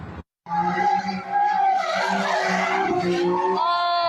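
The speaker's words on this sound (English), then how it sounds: "watching cars doing donuts and other stunts at Gaffey and West 1st Street" Cars skidding through donuts at a street takeover at Gaffey and West 1st Street in San Pedro: loud, sustained tire squeal with a throbbing engine underneath, continuous after a brief silent gap at the start.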